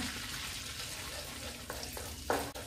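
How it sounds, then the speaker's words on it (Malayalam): Chopped garlic dropped into hot melted butter, giving a steady close sizzle and crackle with a couple of soft bumps near the end. "ഇതിലേക്ക് നമ്മള് അരിഞ്ഞു വെച്ച വെളുത്തുള്ളി ഇടുകയാണ്"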